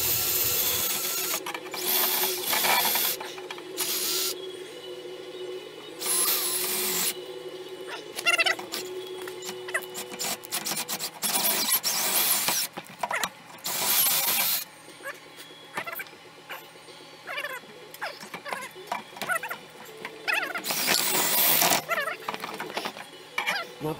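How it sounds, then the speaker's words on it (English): A drill fitted with a wire brush scrubs gunk off a snow blower in loud bursts of harsh whirring and scraping, broken by short pauses, with a low motor drone continuing between them. "I'm going to grab the drill and the wire brush here and I'm going to go at her"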